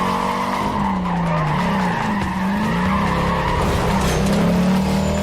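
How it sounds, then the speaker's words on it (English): Muscle car tires squeal and skid through a series of turns in the racing video game Need for Speed Carbon, a loud continuous screech wavering in pitch over a roaring engine. "My big old muscle car does not like all these turns."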